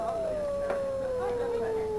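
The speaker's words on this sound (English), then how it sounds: "It was a wolf's howl" A wolf howls in a video game, one long, slowly falling note held for about two seconds over a steady background hum, with a soft voice briefly under it.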